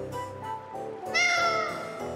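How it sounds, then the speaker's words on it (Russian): A cat meows in the video game Tales of Vesperia, two or three close, clear drawn-out meows in succession with a rising tone, heard alone without talk. "Ты же не думаешь, что Рита и правда говорила с той кошкой"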